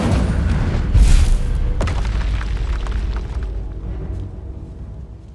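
A fire spell blasts in Hogwarts Legacy, a loud booming whoosh that swells near the start and then rumbles and fades away over several seconds.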